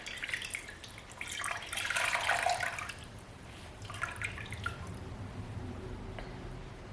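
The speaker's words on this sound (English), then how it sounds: "It's just a clean microfiber cloth, and I'm just going to wring this out." A wet microfiber cloth soaked in salt water is wrung out, dripping and splashing water back into a container in a brief gush, then quieter trickles and drips, close and soft.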